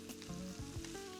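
Steak frying in a hot pan with butter and garlic, a steady close sizzle with brief clinks and stirring sounds over about a second.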